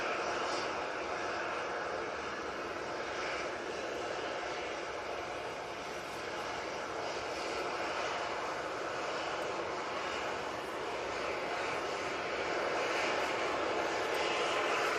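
Jet2 airliner lined up on the runway before departing for Santorini, its engines giving a steady, broad roar that holds evenly throughout at moderate distance, with no clear rise or fade.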